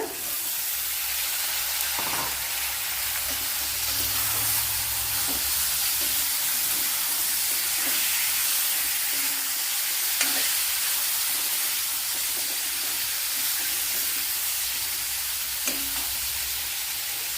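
Quail eggs fry and get stirred in a pan for a curry, giving a steady soft sizzle and hiss throughout, broken by occasional light scraping and clinks of a utensil against the pan.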